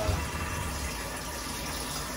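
Water running steadily to wash freshly developed Kodak Portra color film, a continuous close rushing flow like a tap filling a container, even in level throughout.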